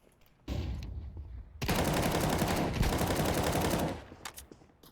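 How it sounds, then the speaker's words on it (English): A flashbang goes off in a tactical shooter video game, a sudden loud burst followed by a sustained harsh blast of noise lasting a couple of seconds before fading into quieter game sounds. "Deploying flashbang."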